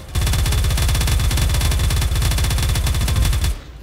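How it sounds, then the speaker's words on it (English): Rapid automatic gunfire from a fast-spraying gun in the Roblox naval battle game Harbor Havoc, a dense unbroken stream of loud shots lasting over three seconds before stopping abruptly. "Compared to the other gun, this one just sprays. It sprays."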